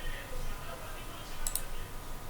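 A computer mouse clicks while values are changed in engineering design software. Two quick, faint clicks come in close succession midway over a quiet background hiss.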